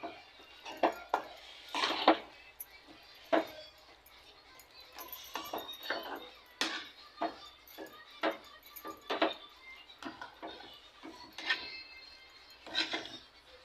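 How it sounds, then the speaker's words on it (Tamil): Masala being stirred and mixed in a metal cooking pot with a utensil, producing irregular clanks and scraping knocks of varying loudness, some sharp and close, with quieter rustling between. "போட்டுட்டு நல்லா நம்ம இதில் மிக்ஸ் பண்ணி விட்டுக்கலாம்"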